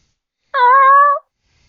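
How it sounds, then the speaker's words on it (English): A single drawn-out cat meow, loud and close, rising slightly like a call, lasting under a second in an otherwise silent space. "He has this way of meowing that literally sounds like he's screaming, hello?"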